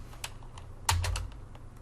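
Short bursts of keystrokes on a computer keyboard, with a louder cluster of clicks near the middle, heard close and alone in a quiet room.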